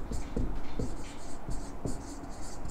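Marker or chalk scratching across a board during a chemistry lecture on atomic structure, in short, close strokes with small taps, a faint voice murmuring underneath.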